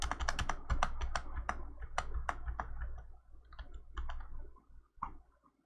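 Rapid computer mouse clicks while working in drone-footage editing software for a dolly zoom effect, a quick cluster of close, crisp clicks early on, then sparser single clicks trailing off, with no talking.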